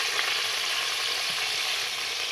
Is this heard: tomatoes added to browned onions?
yes